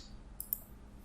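Two quick, faint clicks from a computer mouse sound close together against a quiet background, crisp and brief.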